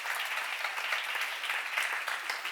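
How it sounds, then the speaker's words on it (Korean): Church congregation at a Korean seminar applauding, a dense, even wash of many hands clapping at once, sustained at moderate level throughout. "박수로 나와주세요"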